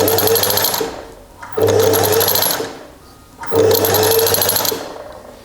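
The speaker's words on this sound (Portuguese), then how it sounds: "colocamos o calcador e vamos fazer o tal pesponto, mesmo junto à costura, de cima a baixo" A sewing machine topstitching close along a side seam by a pocket runs in three loud, steady whirring bursts separated by brief pauses, close up with no voices.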